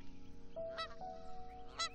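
Geese honk in two clear bursts, one near the middle and another near the end, with a steady low hum running underneath.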